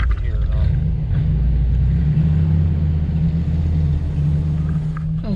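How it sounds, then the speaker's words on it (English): A deep, steady engine rumble from an old Ford truck nearby at a local car cruise, low and throaty, holding a constant drone with slight shifts in pitch. "Got an old Ford truck in front of us. Thing sounds good too."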